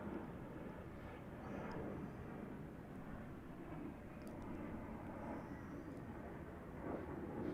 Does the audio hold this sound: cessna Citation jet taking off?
yes